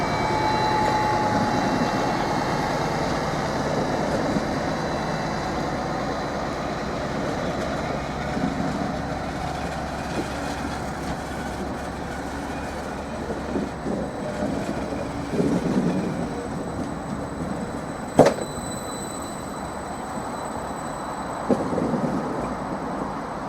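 Train 755 335 pulls away at Norwich Station, with a low rumble and clattering wheels over points rolling on steadily, broken by a sharp metallic clank and squeal near the end.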